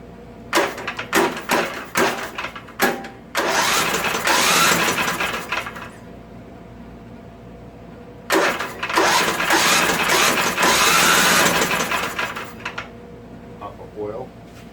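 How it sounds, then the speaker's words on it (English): A Craftsman rear-engine tractor engine, being checked for valve issues, cranks over in two long bursts of rough, whirring turning, separated by short clicks and a quiet pause, loud and close. "Let's crank it over a little."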